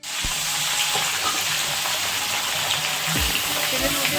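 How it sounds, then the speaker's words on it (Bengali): Chicken frying in hot oil with garam masala and spices, a loud, even sizzle held throughout with a couple of low thuds from a stirring utensil. "দেখুন বন্ধুরা ভালো করে ফ্রাই হয়ে গেছে"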